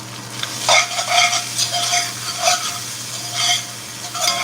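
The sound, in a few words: stir fry sizzling and being stirred in a pan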